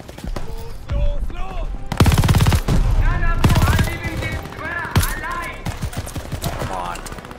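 Automatic gunfire in the video game Call of Duty: Vanguard, with loud close rapid bursts and scattered shots under shouted voices and battle noise.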